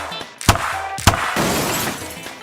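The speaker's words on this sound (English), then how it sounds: "Wow, what a crash! Blue smashed Woody off the track there." Toy cars crash on a Hot Wheels track with two sharp loud impacts about half a second apart, followed by a rattling clatter that trails off.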